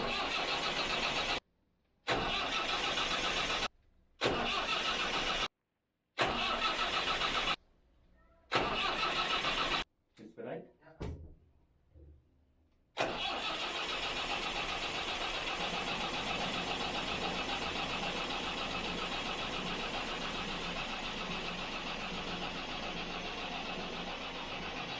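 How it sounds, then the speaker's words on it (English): A vintage yacht's engine cranks in several attempts separated by brief silences, then catches and settles into a steady, loud running drone that continues to the end. "I said we started the engine again."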